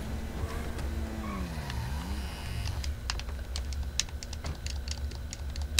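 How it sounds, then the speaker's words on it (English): A vehicle engine in the video game GTA Online rises and falls in pitch across a couple of seconds, then gives way to rapid keyboard tapping and clicks close by. "Oh shit, you can hear my engine."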